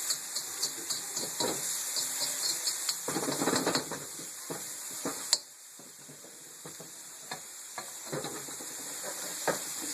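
Potatoes, broccoli and white onions fry in a pan with a steady, hissing sizzle close by, broken by clattering stirs and flips. A sharp knock sounds midway, after which the frying settles to a quieter hiss.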